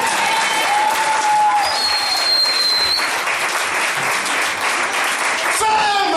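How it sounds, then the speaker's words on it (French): Church congregation applauding and cheering loudly and continuously, a dense sustained roar of clapping with voices mixed in and a few whistles. "Quelqu'un peut acclamer le Seigneur très fort"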